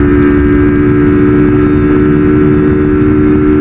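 A 160 cc motorcycle fitted with an aftermarket camshaft cruises on a highway, its engine giving a loud, steady drone under constant wind roar with no change in pitch.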